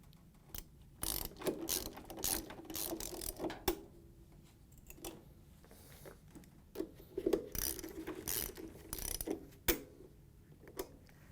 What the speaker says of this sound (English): we're going to take the socket and tighten down the nuts so it clamps it into place